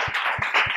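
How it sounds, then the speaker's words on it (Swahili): A classroom of students claps for a classmate, three quick bursts of hand claps in an even rhythm, close and fairly loud. "Mpige makofi Susan"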